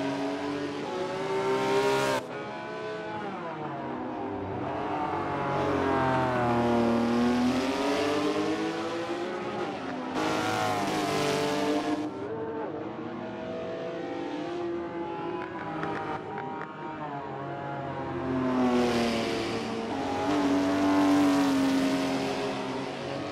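Race car engines roar and rev continuously in Forza on Xbox during an online multiplayer race, pitch sweeping up and down through gear changes and drifts, loud and steady with no speech.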